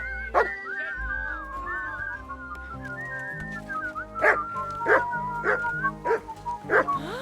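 A dog in the video game Kingdom Come: Deliverance II gives a series of sharp barks and yips over background music and whistling tones, five or six close barks in quick rhythm toward the end.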